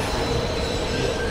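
A train from the video game Dead Space 2 rumbles past in a steady, dense roll of rail noise with a faint metallic whine, close and continuous for a moment.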